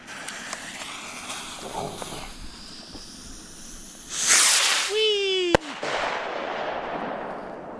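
Outdoors, a rocket barrage firework cake rips upward with a hissing whistle, then a sharp bang cracks out, followed by lingering fizzing.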